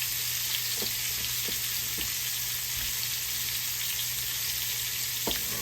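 Onions and apples frying in a skillet, a steady broadband sizzle with a few faint pops and stirring clicks, close and continuous with no talk.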